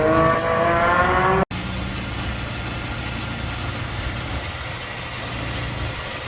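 A brand new car engine on a race track day roars steadily at high revs, a dense continuous drone heard from inside the car, cut by a brief gap as it shifts gears, then holding a lower sustained note.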